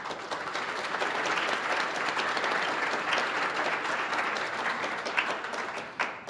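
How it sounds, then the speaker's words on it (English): Warm applause from an audience at a City Club gathering, steady dense clapping filling the whole stretch without a break, a few sharper claps standing out near the end. "Please join me in a warm round of applause for all of them"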